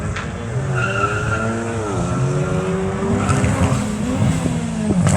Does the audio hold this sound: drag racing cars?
yes